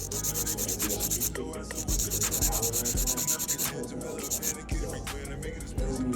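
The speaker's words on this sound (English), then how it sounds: "here I am going in with that cone cuticle sealer bit" An electric nail drill fitted with a cone cuticle sealer bit files an acrylic overlay on toenails, giving a steady, close grinding whir with brief pauses as the bit lifts and returns.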